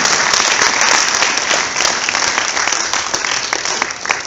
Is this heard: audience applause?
yes